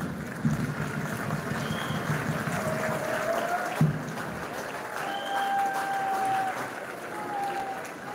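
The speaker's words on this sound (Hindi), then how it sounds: "अपने स्थान पर खड़े होकर और जोरदार तालियां बजाकर चीफ गेस्ट का अभिनंदन करें" An audience at a passing out parade stands to applaud the chief guest, a steady, moderately distant wash of clapping mixed with wind noise and a few brief tones, holding evenly throughout.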